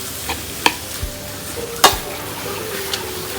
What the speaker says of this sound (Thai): ก็หลวนหนูคั่วหนูให้มันสุกๆหน่อยครับ